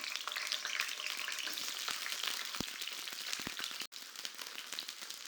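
Whole small shallots fry in oil in a pan on the stove, giving a steady, close crackling sizzle with scattered pops, heard alone without any voices.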